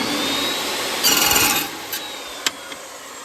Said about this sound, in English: I'm gonna cut me some all thread now